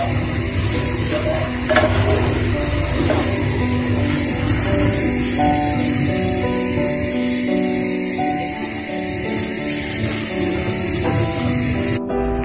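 Black gram dal stirred in a pot on the stove, a steady close hiss and sizzle with scraping under it that carries on without a break, with no talk over it.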